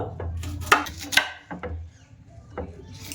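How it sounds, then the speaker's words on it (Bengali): A knife cuts tomatoes and potatoes into small pieces on a wooden board, with a few distinct close chops at irregular intervals and softer scraping between them. "একটু ছোট ছোট করে কেটে নেব"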